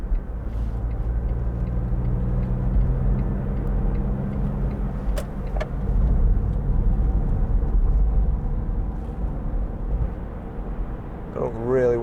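A 2004 Smart fortwo City Passion 0.7 drives along with a steady low engine drone and road rumble from inside the cabin, the pitch shifting as it changes gears, with a brief whine near the end.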